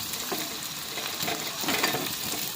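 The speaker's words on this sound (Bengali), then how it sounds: "ম্যাগিটা দিয়ে আমরা ভালো করে মিক্স করে নিব পেঁয়াজ আর তেলের সঙ্গে" Maggi noodles stirred into fried onion and hot oil in a village kitchen, a dense, even crackle of frying with scraping strokes from the stirring, no speech.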